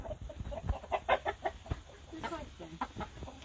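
Chickens and roosters on a small farm flock cluck and squawk in quick irregular bursts, close by and fairly loud, with overlapping calls and no clear speech.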